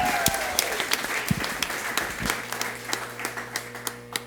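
Audience applause for trumpet player Beto Scopel at the first Som da Prosa night, with distinct individual claps popping over a thinner crowd wash, a few sharp close hand-claps and a low sustained hum underneath.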